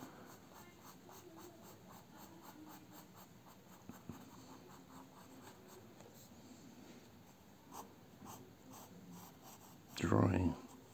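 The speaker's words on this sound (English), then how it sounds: "Do some shading in here to hide my terrible pencil." Pencil shading strokes on paper, a steady run of soft rhythmic scratches close to the mic, with a louder scrape near the end.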